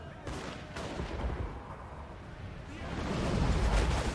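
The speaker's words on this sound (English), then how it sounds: "they are just going to sit there as our rifles start to fire into them" Rifle volleys crackle in a Total War: Warhammer multiplayer battle against a dwarven line, a dense, rolling wash of distant massed gunfire that swells louder toward the end.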